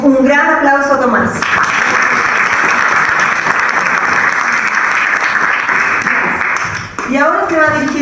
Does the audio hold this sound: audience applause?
yes